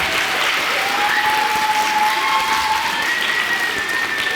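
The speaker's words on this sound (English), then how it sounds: "Let's give this young man a big round of applause" Schoolchildren and parents applaud in a school performance hall, a dense, loud and sustained wash of clapping that holds steady throughout, with faint cheering underneath.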